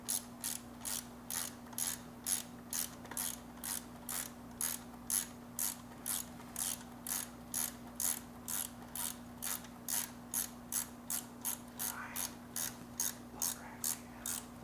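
A ratchet wrench backs out a bolt during a build, its rapid pawl clicks coming in steady, evenly spaced bursts, close and clear over a constant low hum, with no talking.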